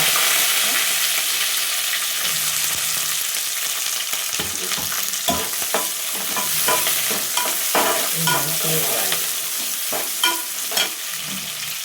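Potato and onion pieces frying in a pan for upma, giving a loud continuous sizzle close by, with intermittent scraping and knocking from a stirring spoon.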